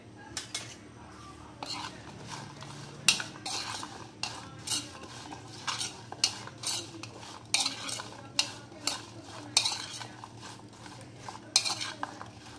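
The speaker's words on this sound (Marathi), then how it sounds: "आणि थोडं मीठ टाकायचं आणि 1 चम्मच लिंबाचा रस आणि याला मिक्स करून" Okra pieces mixed with turmeric, salt and lemon juice in a bowl, a run of repeated scraping and clinking spoon strokes in an irregular rhythm, close and moderately loud.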